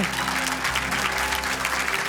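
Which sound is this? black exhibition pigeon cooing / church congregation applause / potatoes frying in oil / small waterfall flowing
church congregation applause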